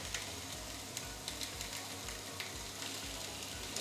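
Coca de Fira dough, a Valencian specialty, frying in a pan gives a steady, soft sizzle with faint crackles, heard close and without talk.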